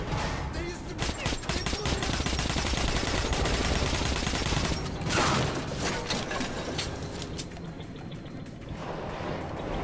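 Dense bursts of gunfire from the video game Metro 2033 Redux, rapid overlapping shots and mechanical clatter filling the whole stretch at steady loudness.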